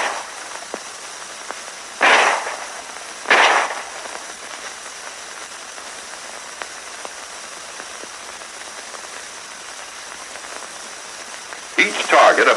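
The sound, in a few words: M1911A1 pistol live firing with tracer ammunition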